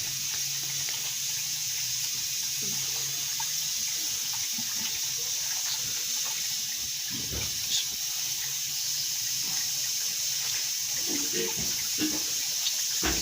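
Water streams and trickles as cooked karam (kohlrabi) greens are twisted and wrung out by hand in a kitchen, a continuous hissy splashing with occasional louder drips and squeezes.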